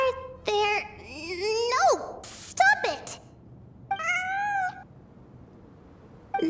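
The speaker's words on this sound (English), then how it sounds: "I'm not hearing things. It really is a cat." A cat in the Genshin Impact video game meows several times in a row, with drawn-out, rising and falling cries that sound close and clear against a quiet game background.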